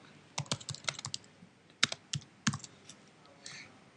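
Quick bursts of clicky keystrokes on a computer keyboard, typed in uneven runs with short pauses, close and clear, tapering to a few isolated taps at the end.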